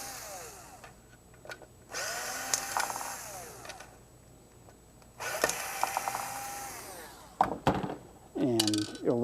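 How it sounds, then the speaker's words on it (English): Four screws come out of a pool cleaner speed control in short whirring bursts of a driver, quiet and close, with small metallic clinks between spins. "you just remove the 4 screws."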